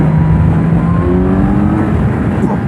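A Kawasaki Z900 motorcycle pulls hard under acceleration, its engine note rising steadily and loud and close over a constant roar of wind and road noise.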